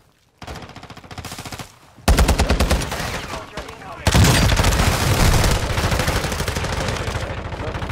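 Machine gun fire from Call of Duty Warzone Resurgence: loud, rapid automatic bursts that start and stop, then a long sustained barrage of gunfire near the listener, with no speech over it.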